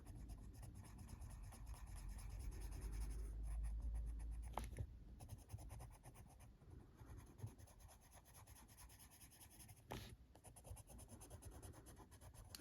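Colouring pencil rubbing and scratching on paper as a pear and pomegranate are coloured in, a steady close, quiet scratchy texture with short strokes and brief pauses, no voices.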